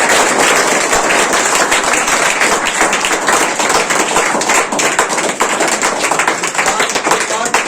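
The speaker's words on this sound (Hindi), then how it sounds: "अब एक बार जोरदार ताली बजाओ" Audience clapping loudly in a Bhaskar Mathematics class, a dense, continuous burst of hand claps filling the room, close and sustained.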